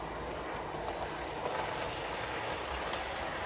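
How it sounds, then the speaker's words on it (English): A long wheelbase model train runs along a new section of model railway track, giving a steady, continuous rolling rumble with faint rail clatter throughout and no voices. "So this is the first long wheelbase train around the new section."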